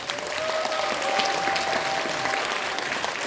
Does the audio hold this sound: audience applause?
yes